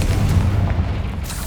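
A Confringo blasting spell detonates in the video game Hogwarts Legacy, one loud booming burst with a deep rumbling low end that fills the short moment.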